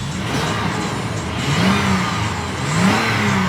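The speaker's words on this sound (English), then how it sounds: "Revs up nicely. It idles smoothly." A 2013 Toyota 4Runner SR5 2WD with VVT-i engine and 143,000 miles revving from idle, two distinct rising revs close by with a smooth idle between, no talking.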